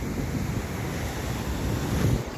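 Sea waves wash steadily along the Gujarat coast, a loud, broad surf roar with wind rumbling against the microphone, continuous and close throughout.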